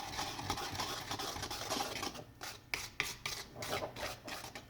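Bleach and developer being stirred together in a mixing bowl for hair dye, a steady close scraping and rubbing of the brush against the bowl that continues without a break, with no voices.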